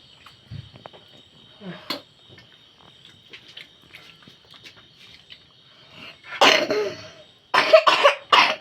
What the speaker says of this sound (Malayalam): അയ്യോ കൊടും ചുമ